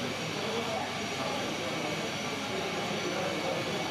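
A steady, broad roar of aircraft engines at a miniature model airport, continuous and fairly loud with no breaks, with no talk over it.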